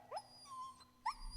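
A dog in a video game whimpers in two short, high, plaintive yelps separated by a soft sustained whine, faint and close with no talk.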